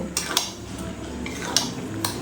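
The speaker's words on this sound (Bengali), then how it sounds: "এবারে এই চিকেনটা কিন্তু আমি আবারও খুব ভালো করে কষিয়ে নেব" Chicken being stir-fried with spices in a pan for a Bengali wedding-style curry, with a few sharp utensil scrapes and clinks against the metal over a low steady sizzle.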